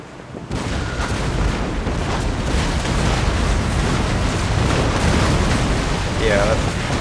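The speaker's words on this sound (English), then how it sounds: "We can get one more shot on this ship before we risk hitting our own. This grape shot's gonna hurt." Ship cannons firing grape shot in a naval battle in Empire Total War, a continuous rumbling barrage of booms and blasts that rolls on loud and dense throughout.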